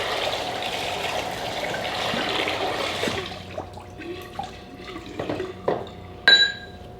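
Running water rinses out a shaving lather bowl at a barber's sink: a steady gushing flow for about three seconds, then drips, sloshes and a final clink of the bowl, close and moderately loud.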